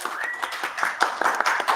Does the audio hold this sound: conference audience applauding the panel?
yes